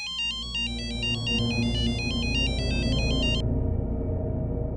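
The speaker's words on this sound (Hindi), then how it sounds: "फोन बज रहा है," A phone ringtone chimes in a repeating electronic melody for about three and a half seconds, then stops, over low background music in a dramatized crime show.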